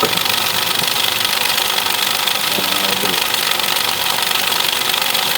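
A Suzuki Celerio engine idles roughly with a steady, shaking drone from a faulty ignition coil, loud and close throughout with an uneven, vibrating pulse and no talk.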